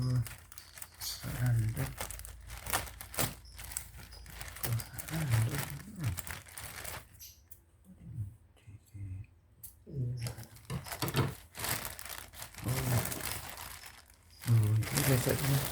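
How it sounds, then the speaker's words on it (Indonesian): Plastic packaging on a red doormat is snipped with scissors and crinkled during unboxing, producing close, irregular bursts of rustling and crackling with a voice talking in between. "kita buka kesetnya, kita gunting plastiknya"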